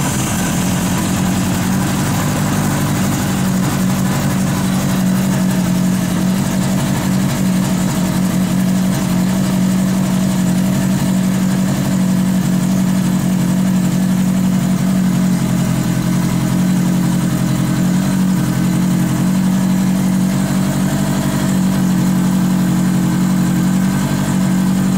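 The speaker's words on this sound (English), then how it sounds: "Turn the key on. Barely crack your throttle." The engine of a Honda CB900 cafe motorcycle with a non-stock airbox idles in a steady, loud, even hum with a strong low drone. The sound runs unbroken throughout, close up, with no talk.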